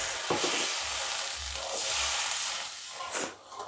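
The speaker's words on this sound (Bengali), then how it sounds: "গ্রেভির জলটা ফুটে গেছে" Gravy for Bhetki fish kofta curry bubbles in a pan, with a steady bright sizzle and hiss and soft low blips of boiling liquid, plus a clink of utensils near the end.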